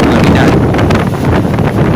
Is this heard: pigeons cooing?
no